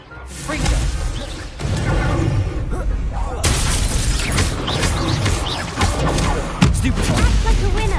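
A Confringo explosion spell goes off during a Hogwarts Legacy duel, heavy crashing booms and whooshes in a loud, cluttered stream of spell effects, with voices calling out over the fray.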